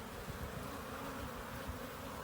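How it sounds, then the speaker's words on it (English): Honeybees buzz around an open beehive, a continuous soft drone from many insects nearby, steady and unbroken. "these still seem very nice bees"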